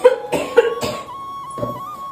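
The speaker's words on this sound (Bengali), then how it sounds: "আমার তো কাশি হচ্ছে" A few sharp coughs in quick succession, close and fairly loud, followed by a fainter cough after a short pause.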